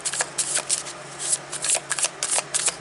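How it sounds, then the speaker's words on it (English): Tarot cards being shuffled up close in quick, repeated riffling bursts, with short pauses between them and no talking. "So I'm just going to shuffle a little more here."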